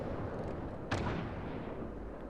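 A stock Cleveland cruiser's guns fire a shell salvo in World of Warships, one sharp boom with a short rumbling tail standing out of a steady, low ambient battle drone.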